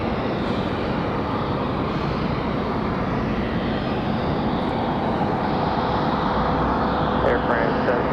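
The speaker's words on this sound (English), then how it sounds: "enjoy the Air France departure" An Air France jet airliner takes off from runway 23 right at Raleigh-Durham International Airport, a loud, continuous engine roar that holds steady throughout, with radio chatter mixed underneath.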